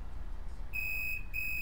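Electronic ringtone of a phone call in GTA 5 Online, a steady bright beeping tone that starts partway through and repeats after a short gap over a low background rumble, without any talking.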